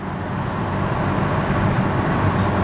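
A Nissan TD27 diesel engine idling after a water pump replacement, a steady low rumbling drone with a broad even hiss, continuous and close, no voices.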